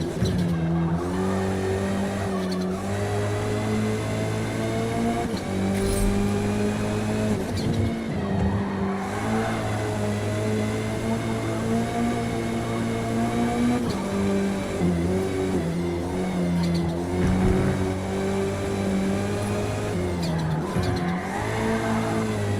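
Touring race car in the Forza Motorsport video game, its engine droning loudly and continuously with rising and falling revs and bursts of tire squeal through corners, with no voices.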